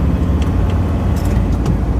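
A camper van climbs a steep 20% incline on a smooth Lake District mountain road, its engine a loud, steady, close drone with rough low rumble throughout.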